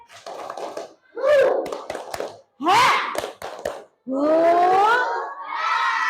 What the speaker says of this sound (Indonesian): coba kita tepuk semangat biar tambah semangat lagi dalam belajar. Tepuk semangat.